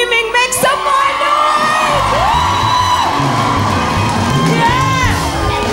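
A television comedy show audience screams, whoops and cheers loudly and continuously, a dense crowd roar with shouted yells rising above it.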